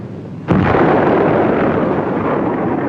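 A sudden thunderclap breaks during a storm, a sharp crack swelling into a loud, sustained rumble that slowly fades, with no voices over it.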